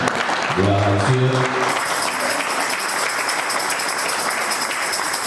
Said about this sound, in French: Est-ce qu'on peut acclamer le Seigneur pour ça?